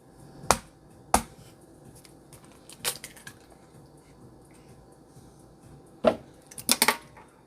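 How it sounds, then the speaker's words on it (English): Two eggs cracked against a hard edge while making boxed brownie batter, heard as several sharp, close clicks and taps in two clusters with quiet gaps between, no talking. "Whoops, you gotta crack them first."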